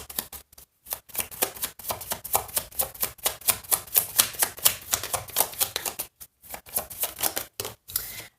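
A tarot deck is shuffled and dealt close up in a run of crisp, rapid card riffles and snaps, with brief pauses between bursts. No voices accompany it.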